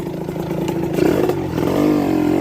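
A Honda LS125 motorcycle engine revs up loudly at close range, a steady buzzing drone that climbs in pitch toward the end, with no talking.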